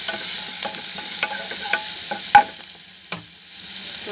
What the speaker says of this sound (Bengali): মশলাটা একটু আমি কষিয়ে নিলাম।